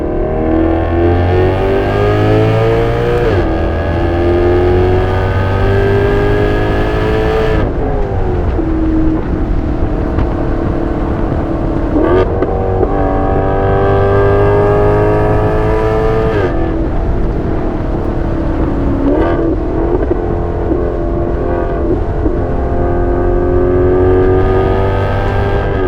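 A cheap exotic car's engine revs hard through several climbing runs, each rise cut off by a sudden drop at the shift, loud and close with a steady roar throughout and no talking.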